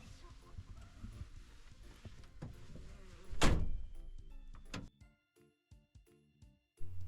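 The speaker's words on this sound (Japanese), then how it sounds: "閉めて、ドアも閉めて。" A door on a microbus camper closes with a solid, close thunk, preceded by soft interior bumps and shuffling, then a quiet pause and a few light knocks afterward.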